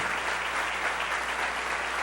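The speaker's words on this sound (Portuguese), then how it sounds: "aplaudindo carinhosamente a Deus, pela sua vida" Congregation at a 2017 church convention applauding warmly in a steady, dense wash of clapping that fills the room, no voices standing out.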